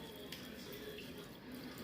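A cup of water runs steadily into venison sausage seasoning, a soft continuous watery hiss with no voices.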